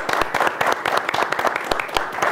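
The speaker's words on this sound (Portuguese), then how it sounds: "então uma salva de palmas para o grupo." An audience applauding a band: dense, lively clapping from many hands, loud and close throughout, with faint crowd murmur beneath.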